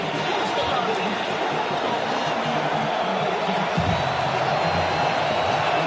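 A college football stadium crowd at Oklahoma versus Auburn roars steadily and loudly throughout, a dense wash of cheering and noise with no breaks.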